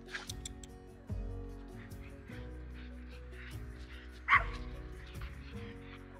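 Dog barking and yipping in a short burst of sharp barks with whimpery edges, close and fairly loud, indoors during a training session, with a louder bark near the end.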